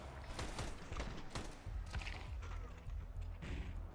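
Rapid clusters of sharp Tech-9 pistol shots in a Counter-Strike 2 Major playoff match, Vitality versus Mongolian opponents, popping in quick bursts amid game noise at moderate distance.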